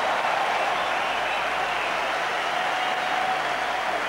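Stadium crowd at the 1992 Middlesex Sevens rugby tournament roaring after a Western Samoa scrum half sprints in for a try, a continuous loud wall of cheering and applause throughout.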